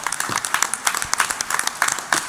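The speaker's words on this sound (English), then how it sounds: "Big round of applause for the boys on their accomplishments this year" Applause at a Newport school committee meeting, a small room clapping for a school sports team and coaches, with sparse uneven claps rather than a dense roar, steady for a couple of seconds.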